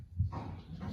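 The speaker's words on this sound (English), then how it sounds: "Sorry about the dogs." Dogs bark indoors, one soft muffled bark and then some low whimpering and rustling, faint and at some distance.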